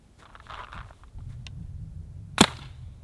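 A Planet Eclipse Geo R5 paintball marker fires a single sharp shot, near and loud, with light handling noise before it.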